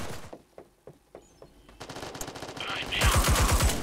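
Sharp isolated gunshots in the mobile battle royale game Disorder crack at first, then build into rapid automatic fire and dense overlapping bursts, loud and close.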